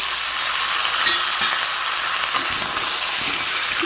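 Diced potato, papaya and carrot frying in a pan while being stirred, a dense, even, close-up sizzle with faint scraping movements underneath.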